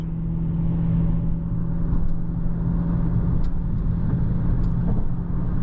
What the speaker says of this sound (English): let y'all hear the engine roar a little bit